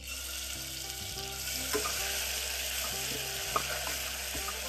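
Garlic, ginger and coriander paste sizzles steadily in hot oil over a cumin-and-spice tempering for masala khichdi, a constant close frying hiss with faint stirring clicks and no voices.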